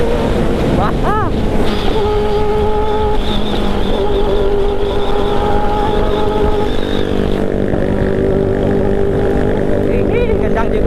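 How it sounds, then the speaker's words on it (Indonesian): Loud, steady motorcycle engine drone from a big bike on a group Sunday ride in Malang, with wind rushing over the microphone, the pitch shifting slightly as it runs; faint voices mixed underneath. "Ini kencang juga ini motornya."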